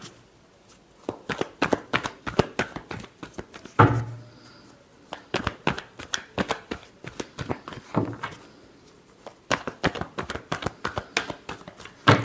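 Tarot cards shuffled by hand up close in rapid crisp riffling bursts, with brief pauses between rounds and one heavier knock partway through, and no voices.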